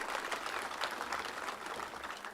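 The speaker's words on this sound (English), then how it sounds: "Can you give him a hearty clap?" A graduation ceremony crowd at Kaimosi Friends University gives a professor a hearty clap, a thick and even wash of applause that sounds slightly distant and continues without a break.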